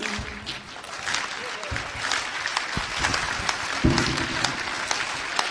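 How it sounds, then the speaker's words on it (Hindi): An audience applauds at a Hindi poetry recital (kavi sammelan), a sustained wash of clapping from a crowd with scattered louder claps and some voices mixed in. "केवल एक मिनट ताल दे देना तालियों की"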